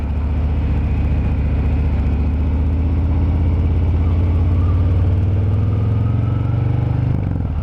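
A motorcycle pulls away from a traffic light, its engine rumbling steadily and rising in pitch as it accelerates close by, with no talk.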